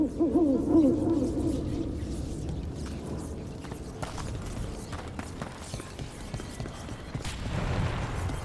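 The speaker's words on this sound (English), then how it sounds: "Another owl." In Dragon Age: The Veilguard, an owl gives a few low hoots early on, fairly clear over ambient game sound and footsteps that continue afterward.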